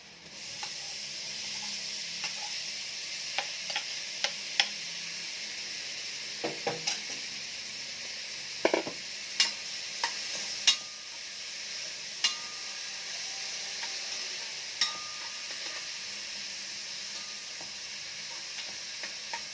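Ground meat sizzles and fries in a pan for spaghetti sauce while a utensil stirs and scrapes it, with steady close sizzling broken by several sharp clacks of the spoon against the pan.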